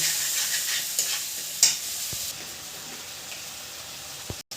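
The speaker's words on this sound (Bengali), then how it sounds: "এবার মশলাটা ভালো করে কষবো" Onion masala frying in oil with turmeric and salt for an egg and potato curry, a steady close sizzle broken by scraping stirs of a spoon across the pan, fading slightly toward the end, with no talking.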